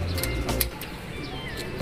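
A racing pigeon is let go outdoors, with a brief coo and flapping bursts near the start, followed by quieter outdoor ambience and faint chirps.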